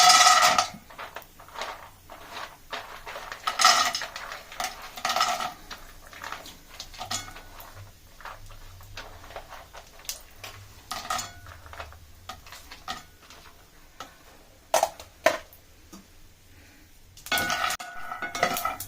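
Almonds fry in a spoonful of ghee while a spoon scrapes and clinks against the pan in irregular bursts, with quieter stretches of soft sizzling between the louder stirring clatters.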